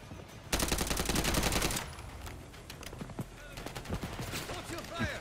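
Automatic gunfire in a Call of Duty match: a dense, loud burst of rapid shots for about a second, then scattered single shots and other game sounds with some voice chat.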